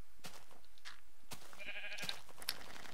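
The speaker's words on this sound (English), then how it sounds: "this sheep is really getting on my nerves" A sheep in the video game Minecraft bleats in a short, wavering cry amid clicks and other game sounds, with no one talking over it.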